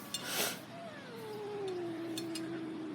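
A pet cat meows in a long, drawn-out call that slides downward and trails off, fairly close and clear, with a faint voice and room noise in the background.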